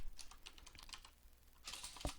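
Quiet typing on a computer keyboard, two short bursts of soft, rapid key clicks separated by a pause, the second ending with a slightly heavier keystroke.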